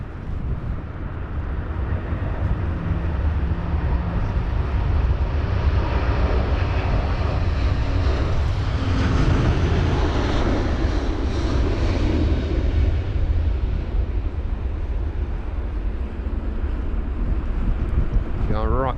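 An airliner rocketing down the runway at London Heathrow during Storm Kathleen, a loud sustained engine roar mixed with heavy wind buffeting on the microphone, with a person talking over it.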